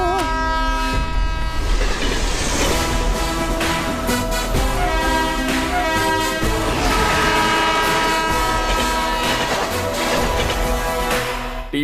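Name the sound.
train approaching and passing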